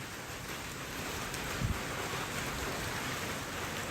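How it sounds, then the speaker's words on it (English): Steady rain falls outdoors in an even broadband hiss with no pauses, and a single faint thump sounds in the middle. "the rain's probably not going to last long, but we're going to kind of wait it out here"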